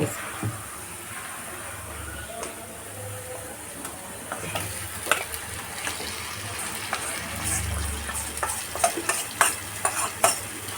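Chicken frying in oil with no water or paste added, stirred in the pan, with a constant sizzle under repeated scraping and clattering strokes that grow busier toward the end.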